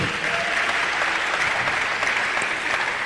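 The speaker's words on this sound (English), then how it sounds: "Please, let's give a round of applause again." Audience applause at a life conference held at a university, a steady, dense wash of clapping from a large crowd that fills the whole moment without pause.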